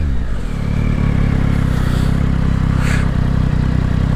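A 2022 Yamaha Tracer 9 GT motorcycle accelerating hard with its quick shifter, a loud close engine roar climbing in pitch with brief breaks at the gear changes and wind noise over it.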